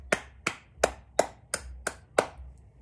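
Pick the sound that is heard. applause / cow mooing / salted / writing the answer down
applause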